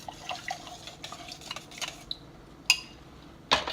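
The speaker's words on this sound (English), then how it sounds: "You just add it to hot boiling water." Homemade spaghetti goes into a pot of boiling water, heard as faint bubbling and stirring with light clinks and scrapes of utensils against the pot, capped by a couple of sharper metallic knocks.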